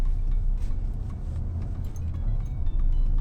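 A Mahindra XUV700 diesel SUV with manual transmission pulling away as the clutch is released, a steady low engine rumble close by, fairly even throughout, with no talking.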